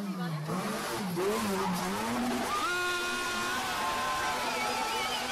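A Mitsubishi ASX 2.0 accelerating hard after a 133,000 km service, its engine note climbing steadily in pitch with a shift partway through, loud and close, with a voice talking briefly over the start.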